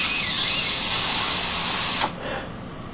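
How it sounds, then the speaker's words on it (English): A power drill whines loud and steady while boring holes into an ostrich eggshell, running continuously for about two seconds before cutting off abruptly, with no talk over it. "we can actually drill bigger holes and go another size up"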